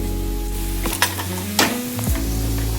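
Small diced bottle gourd frying in a pan, a steady hiss of sizzling under a loud low hum, broken by a few brief scraping stirs, close up with no speech.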